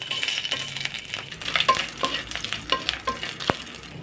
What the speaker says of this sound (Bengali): নারকেলের ডুমিগুলো আমি ভেজে নিচ্ছি।